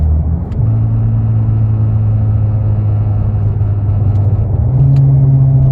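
A 2015 Mazda 6 with a custom straight-pipe single-exit exhaust downshifts, a loud, close, droning engine note that steps in pitch between gear changes and holds a steady rumble, with no talk.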